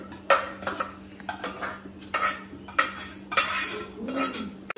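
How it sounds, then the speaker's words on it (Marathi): A metal spoon stirs teryachi bhaji, a wild leafy vegetable cooked with garlic, in a pan, making repeated close scraping and clinking strokes in an irregular rhythm with no talk. "आता आपण ढवळून घ्यायचं पूर्ण"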